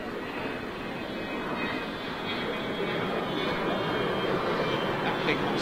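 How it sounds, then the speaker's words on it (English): A tri-jet airliner's engines roar steadily at a moderate distance, a continuous broadband rush with a faint whine on top that slowly builds louder toward the end. "unbelievable power to weight ratio on a tri-jet"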